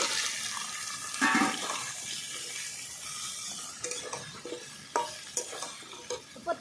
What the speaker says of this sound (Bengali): এবার আমি কলাগুলো আর আলু কেটে নেওয়াটা দিয়ে দেবো